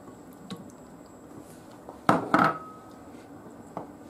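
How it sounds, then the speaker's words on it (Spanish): Olives tipped into a bowl of tuna pasta salad make a brief cluster of soft wet plops and light clatter, close and fairly quiet, with a small tap just before and after. "Seguidamente echamos las aceitunas."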